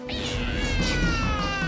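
A cat meowing in one drawn-out, wavering caterwaul that holds loud and close throughout.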